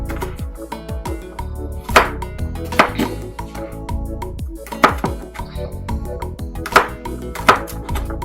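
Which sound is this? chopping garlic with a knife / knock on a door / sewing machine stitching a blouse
chopping garlic with a knife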